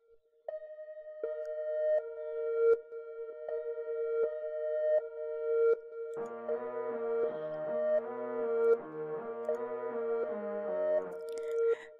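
A synthesizer holds a steady tone, then blooms into a denser layered chord with echoing, smeared repeats from delay and reverse effects; no one speaks.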